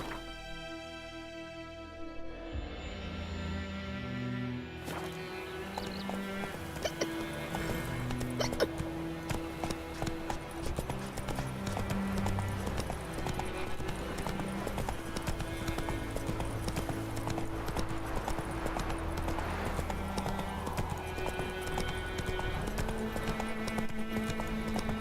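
Horse hooves gallop in the video game The Witcher 3, a continuous rhythmic clip-clop of a ridden horse beneath game music and ambience.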